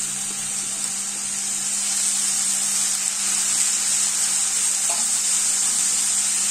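Egg chicken chowmein stir-fries with soy sauce and vinegar, a steady loud hiss of steam and sizzling over a constant hum, with a brief clink near the end and no talking.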